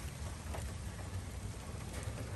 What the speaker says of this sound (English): it is raining after some delays